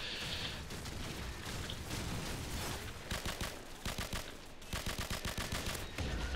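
Rapid bursts of automatic gunfire in the video game Call of Duty 4, dense rattling volleys near and loud, with pauses between, ending in a long sustained stream of shots.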